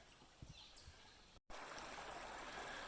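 Stream water flowing along the Hells Hollow trail in Pennsylvania, a steady, faint outdoor rush of water. It drops out for a moment near the middle and then returns louder.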